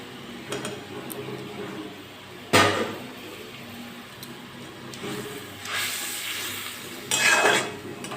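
Egg curry gravy with fried omelettes simmering in a kitchen pot: a low bubbling hiss broken by sharp clinks of a utensil against the pan and bursts of louder sizzle as the omelettes go in, close by with no talk.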